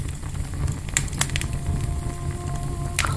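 A campfire burns on a cold mountain night, giving sparse sharp crackles and pops over a steady, windy rushing background.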